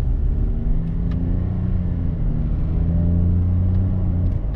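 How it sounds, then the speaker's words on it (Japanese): Toyota Yaris Cross gasoline car under full-throttle acceleration in power mode, its high-revving engine giving a steady, loud low rumble with a rising tone throughout, heard from inside the cabin with no talking. "ドライブモードをパワーモードにしてアクセルをベタ踏みにすれば、そこそこパンチの効いた加速をしてくれます。"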